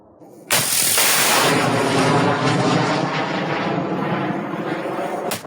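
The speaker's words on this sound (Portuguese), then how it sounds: "Houve uma explosão." A blast erupts suddenly and loudly after a short quiet, followed by a sustained broad roar and rumble that slowly fades over several seconds before a sharp cutoff.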